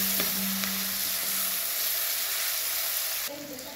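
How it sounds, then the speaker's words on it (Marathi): Curry leaves frying in a pan with tomatoes, a steady close sizzle with a brief stirring scrape early on and a sharper burst of hiss near the end. "परतून घेऊया। चांगलं भाजूया आणि त्याच्यासोबत जरा कढीपत्ता बी टाकायचा।"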